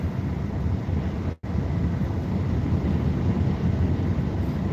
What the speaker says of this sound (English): Windy out here too.